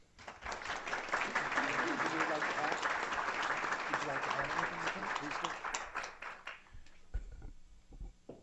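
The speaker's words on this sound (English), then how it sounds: "Please just give them a round of applause." Audience applause at a Pima County Board of Supervisors meeting, a steady round of clapping lasting several seconds that fades out, followed by a few isolated thumps.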